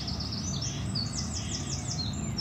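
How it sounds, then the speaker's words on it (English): A blue tit at a garden bird box gives a series of high, quick chirps and tweets over a steady background hum. "There's the blue tit."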